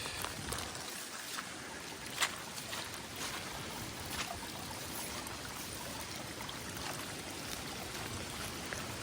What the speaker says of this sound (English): So the water just appears to be flowing from just there.